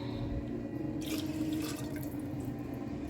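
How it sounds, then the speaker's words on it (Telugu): Water heating to a boil in a pot for bagara rice, giving a quiet, steady bubbling with soft drip-like splashes throughout. "బగారా రైస్కు వాటర్ బాయిల్ అవుతున్నాయి"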